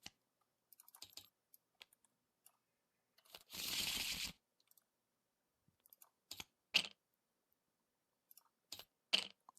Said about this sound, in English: this is going to get shuffled back into my deck